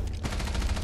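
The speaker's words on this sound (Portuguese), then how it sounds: "o tiro parece que tá pegando bem, Drizzy." Gunfire in Rainbow Six Siege: a fast burst of rapid automatic shots, loud and close, firing continuously through the moment.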